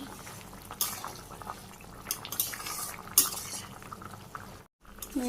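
A pot of cauliflower and potato vegetable curry boils on a village stove, soft bubbling under scattered metallic clinks of a utensil against the pot, quiet and close with a brief pause near the end.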